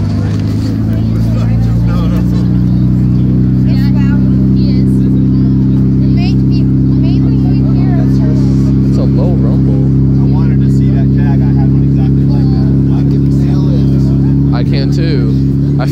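A Nissan Skyline R33 engine idles with a deep, steady rumble close by at a car show, its tone holding level rather than climbing, while people chat nearby.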